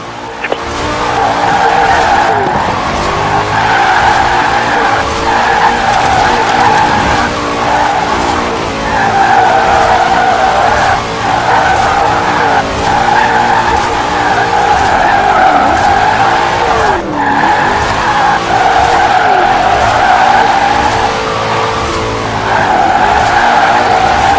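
Tires skid and squeal continuously as a car drifts through the Drift Circle at the Horizon Festival in Forza Horizon, engine roaring loudly and steadily throughout with brief surges.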